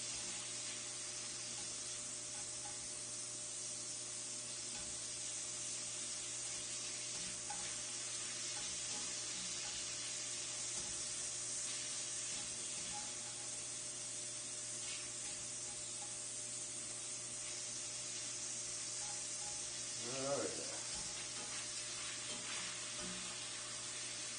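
Beef pieces for stroganoff frying in a pan, a steady even sizzle and hiss that runs throughout at low level, with a faint clink of a utensil partway through and no talking.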